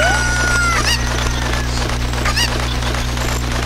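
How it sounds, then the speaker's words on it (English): A chicken clucks in The Legend of Zelda: Ocarina of Time, with short bird calls over a constant low game hum and background music. "Need to find that chicken again."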